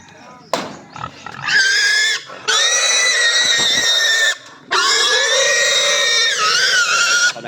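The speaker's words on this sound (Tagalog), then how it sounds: "Ito na yung baboy ko." A pig squeals loudly and close by in long, high, strained bursts, three main cries separated by short gaps, with a few grunts at the start, on a backyard farm where the pig is being fed before sale.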